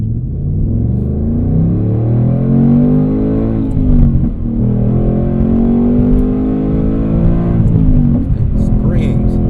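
A 2025 Ford Mustang Dark Horse launches hard from a dig, its engine note climbing steadily through a shift with a deep, loud, rising roar that dominates the whole stretch.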